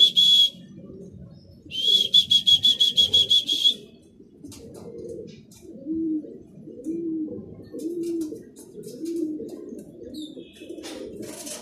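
Racing pigeons coo repeatedly at a loft, low soft rhythmic calls near and far, with bursts of bright bird chirping and occasional wing flaps in the background.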